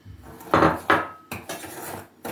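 A spoon scrapes and clinks against a bowl while stirring cocoa and sugar, several quick, irregular strokes with brief pauses between them, close up and fairly loud.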